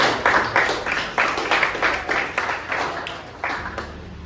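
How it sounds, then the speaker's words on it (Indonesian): Classroom applause for group 1 after their presentation during a teaching performance test, a few hands clapping at a brisk, slightly uneven rhythm, close by and fading toward the end. "Tepuk tangan untuk kelompok 1"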